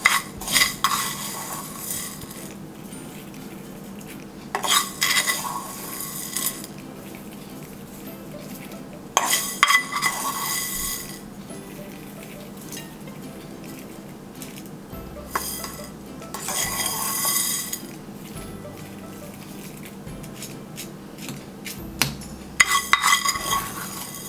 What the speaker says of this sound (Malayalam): ഒരു പീസ് കട്ട് ചെയ്ത് കാണിച്ചു തരാം.